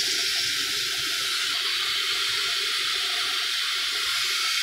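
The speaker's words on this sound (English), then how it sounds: "I like to rinse mine just a little bit." Smoked neck bones are rinsed under a running kitchen tap, a steady close hiss of water pouring with no break.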